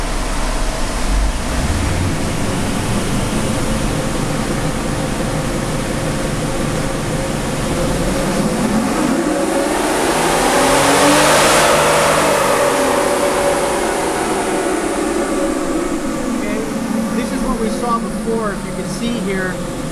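A 2012 Jeep Wrangler with a 3.6L V6 and long-tube headers runs on a dyno, rising through a long, loud sweep to a peak of revs before easing off, steady and close throughout.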